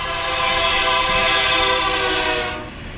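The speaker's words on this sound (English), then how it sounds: "the blaring sound of the horn could be heard from directly behind them" A train horn blares loudly in a railway tunnel with people just ahead, a sustained harmonic blast over rumbling rail noise that holds steady and then cuts off near the end.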